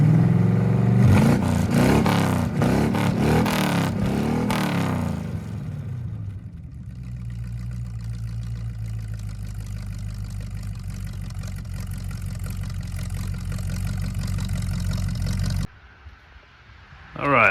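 A 1986 Chevrolet C10 pickup engine running after tuning by ear, opening with a few loud revs before settling into a steady, close idle, then cutting off abruptly near the end.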